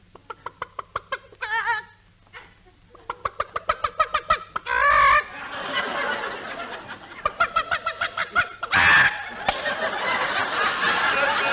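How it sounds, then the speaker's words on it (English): A hen clucks on its nest in a radio comedy sound effect, with rapid rhythmic clucks, squawking bursts and cackling laughter-like calls that keep going and are loud and close. "Oh, Fred, look at that hen sitting on the nest."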